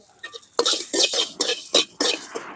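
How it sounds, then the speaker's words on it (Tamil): Coriander dry-roasts in a pan for a drumstick seed chutney. A spoon stirs it in several quick, close scraping bursts with short gaps between, and there is little sizzle and no talk. "கொத்தமல்லி வறுக்கணும்"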